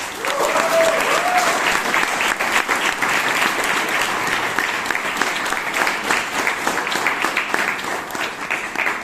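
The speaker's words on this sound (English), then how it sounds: "I think they both deserve a round of applause." A room full of people at a Toastmasters club meeting in Bangalore claps steadily and warmly for about nine seconds, a dense even wash of applause, with a brief voice heard briefly near the start.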